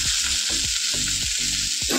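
Okra fries in a pan with a loud, steady sizzle, broken by several regular scraping strokes as it is stirred.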